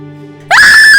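A woman in a horror audio drama lets out a sudden, loud, piercing scream that rises sharply and holds a high shrill pitch, breaking in after a low droning musical tone.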